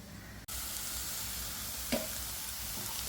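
A vegetable filling sautés in a pan, giving a close, steady sizzle with a single sharp utensil clink partway through and no voices.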